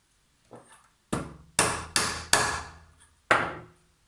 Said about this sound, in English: Nothing a whack with the hammer can't fix